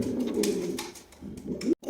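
A pair of yellow Bombay pigeons coo close by, with a few soft, throaty rolling calls over a quiet background.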